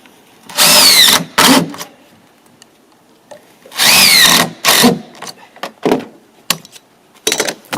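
Power drill driving screws into a mounting, heard as several loud whirring bursts of about half a second to a second, separated by short pauses and followed by quicker, choppier spurts near the end.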